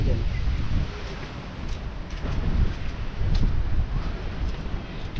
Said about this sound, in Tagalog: Masyado pong malakas ang hangin